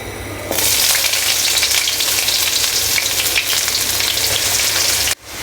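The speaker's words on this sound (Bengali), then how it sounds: "এখন আমি তেলের মধ্যে পেঁয়াজ দিয়ে দিচ্ছি।" Sliced onions dropped into hot oil burst into a loud, close, continuous sizzle and crackle that holds steady for several seconds before cutting off abruptly near the end.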